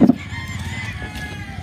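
Chickens on a big farm in the Philippines at feeding time, with a rooster crowing loudly up close and hens clucking around it in a brief burst.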